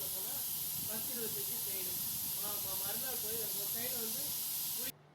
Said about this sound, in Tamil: இப்போ குக்கரை மூடி வச்சிடலாம். ஒரு 3 சவுண்டு வந்த பிறகு நம்ம இதை ஆஃப் பண்ணி பார்க்கலாம்.